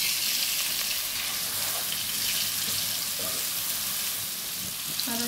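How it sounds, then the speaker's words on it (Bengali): Eggplant pieces frying in a pan make a dense, continuous crackling sizzle, close and fairly loud, with faint clinks near the end and no talking. "ওটাই আমি সাইড পিস বেগুন ভেজে নিলাম।"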